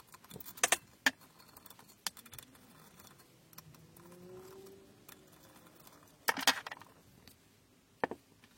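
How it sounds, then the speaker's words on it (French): Metal parts of a Mazda RX8 rotary engine oil pump clink and clatter as it is dismantled on a bench, with scattered sharp knocks and jangles in short bursts separated by quieter handling noise. "Donc on le démonte sur la plate avant et on contrôle le jeu."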